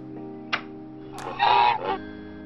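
A cartoon goose from The Simpsons: Tapped Out mobile game gives a short honk, followed by a longer, louder nasal honk over a steady game background tone.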